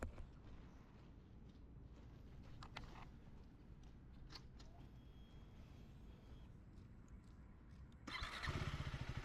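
A KTM Adventure 390 motorcycle hums along at steady cruising speed in a low, continuous drone with wind noise, growing louder and rougher near the end.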